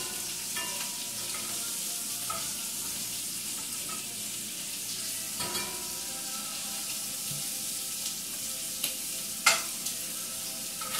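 Shrimp fry in a pan with a steady close sizzle, broken by a few soft scrapes and clicks of utensils and a brief louder clatter near the end, with no voice over it.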